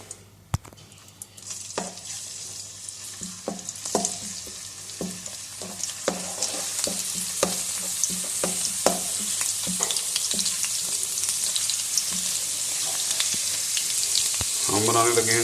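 Ginger garlic paste sizzling and frying in several tablespoons of hot oil in a pan, with a steady bright crackle and repeated stirring scrapes throughout, growing denser toward the end, no talking.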